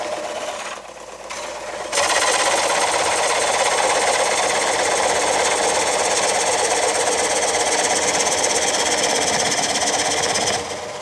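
Wood lathe spinning a bowl blank as a coring tool cuts into it, a steady loud whirring grind with dense rhythmic chatter that starts abruptly after a quieter moment and runs continuously, with no talk.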